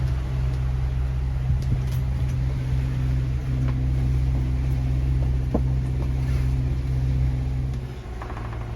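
Boat motors run steadily throughout, a loud continuous low hum and drone on the water with faint wind, heard alone without talk.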